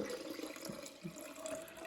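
Water runs steadily from a tap or is poured in a village kitchen while making crepe batter, a continuous close splashing wash with no talking.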